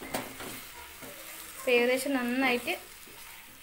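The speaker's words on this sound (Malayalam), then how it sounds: "വഴറ്റി എടുക്കുക." Chicken coated in masala sautés in a pan for a biryani, giving a steady soft sizzle and stirring under someone speaking Malayalam close by.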